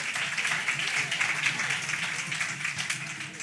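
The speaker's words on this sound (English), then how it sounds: "Clap it up." Audience clapping at a community outreach health session, a steady moderate patter of many hands with faint voices underneath.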